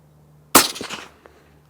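A single loud, close rifle shot from a Seekins Havak Pro Hunter 2 firing a 170 grain Norma Tipstrike bullet during a range test, a sharp crack followed by a short decaying echo, with no talking.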